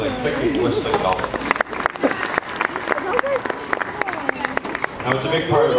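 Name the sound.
audience applause at aquarium dolphin show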